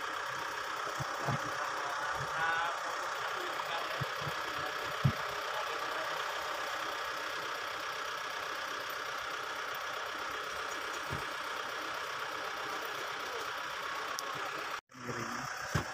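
Toyota 2E engine running steadily during a manual transmission test, a faint even idle hum held throughout with a few small knocks and a brief dropout near the end.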